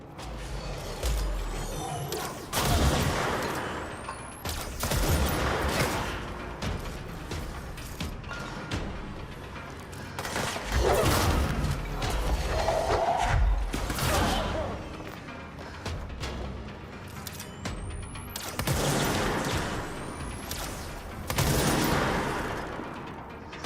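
Gunfire in the video game Control, with several sharp shots and bursts spread through a busy, loud game soundscape of mechanical rumble and whooshes.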